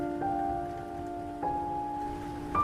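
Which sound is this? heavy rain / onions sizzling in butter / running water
heavy rain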